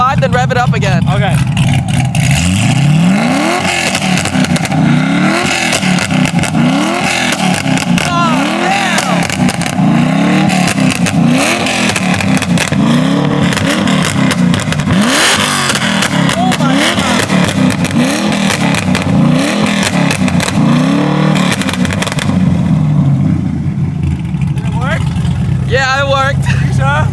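A car engine is revved repeatedly to about 4,500 rpm and allowed to fall back between blips, loud and close, with people talking over the rising and falling engine.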